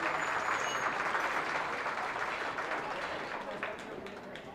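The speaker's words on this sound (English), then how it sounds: "let's give them all a round of applause." An audience at a county goat show applauds the participants, a dense sustained round of clapping that gradually thins and fades toward the end.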